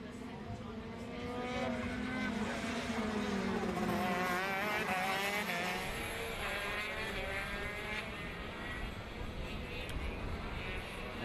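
Grand Prix racing karts at a Western Australian kart championship race, engines buzzing and droning past with rising and falling pitch, a race commentator talking over the engines.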